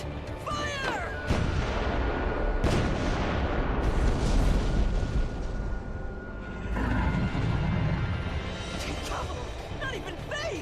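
Ship cannons firing at a black dragon in Rune Factory: Guardians of Azuma, heavy booming blasts and rumbling explosions over several seconds, loud and close, mixed with game effects and character voices.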